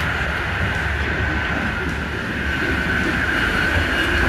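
A steady, loud rumble from an Intercités night train from Paris to Briançon, heard in the passage between carriages, with continuous wheel roar and a high metallic whine running throughout.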